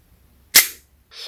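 GHK 1/2 scale full-steel STEN Mk.II model gun dry-fired with dummy rounds in the magazine: a single sharp, close snap that decays quickly, followed by a faint mechanical rattle.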